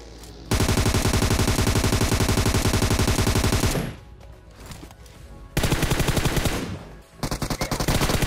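Automatic gunfire in the PUBG Mobile battle royale game: a long sustained burst of rapid shots, then a pause with faint background sound, followed by two more loud bursts, close and without talk.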